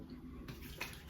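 Yakushima aftershave splash pouring out of its bottle, a faint, steady liquid trickle lasting about a second, heard alone with no voices.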